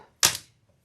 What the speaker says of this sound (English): Use my little duck scissors.